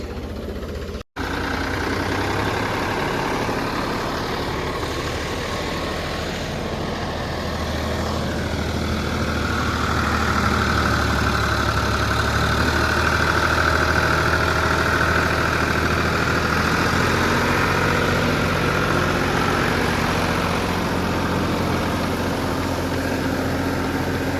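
Close by, a Ford tractor works a flooded field with a rotavator, its engine holding a heavy, even drone with a mid-range whine that swells slightly midway, unbroken and without voices.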